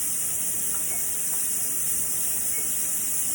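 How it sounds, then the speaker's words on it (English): A pressure canner loaded with raw potatoes hisses steadily as steam vents under constant pressure, a loud continuous broadband rush with an unbroken high whistle-like edge, close and without talking. "steam has been steaming really good, constant pressure, you can see it right there"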